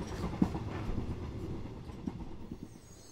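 A train rumbles along with a steady low roar, and faint rhythmic clicks of wheels over rail joints come through in a dark, quiet atmosphere.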